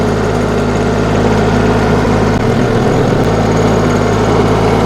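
A motor tiller engine runs steadily nearby, a loud continuous low rumble with dense vibration and a brief dip in the lowest hum midway, with no talking over it.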